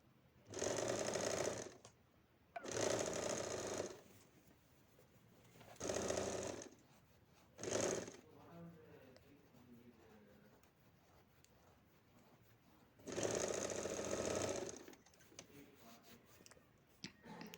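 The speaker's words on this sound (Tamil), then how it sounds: "பின் பண்ணி இப்போ நான் ஸ்டிச் பண்ணி எடுத்துக்கிறேன்." Sewing machine stitching leftover fabric for a kurti, running in several short separate bursts of fast mechanical whirring, close and clear, with quiet pauses and faint handling between runs.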